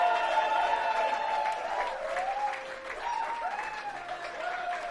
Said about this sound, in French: une bonne main d'applaudissement pour Monsieur Jonathan Dion!